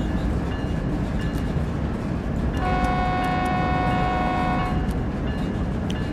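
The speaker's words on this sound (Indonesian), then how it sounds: "Horn sequencer lebih panjang." A BNSF ES44CA locomotive horn in Train Sim World 3 sounds one sustained, chord-like blast of a few seconds over a constant loud rumble of the moving train.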